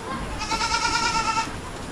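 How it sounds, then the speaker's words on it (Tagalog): A single goat lets out one drawn-out, wavering bleat lasting about a second, close and fairly loud over steady outdoor background noise. "Sa mga nakaraang araw po, yung isa nating kambing na si Dayan"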